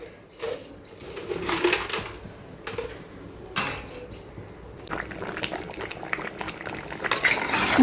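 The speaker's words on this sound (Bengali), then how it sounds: "মাংস কষানো হচ্ছে মাংস কষেও গেছে অর্ধেক বাটা মরিচ দিয়ে মাংস রান্না হচ্ছে" Meat stir-fried in a large pot with ground chili and spices for Eid al-Adha, heard as close, irregular metal spoon scrapes and clinks against the pot over a soft bubbling sizzle.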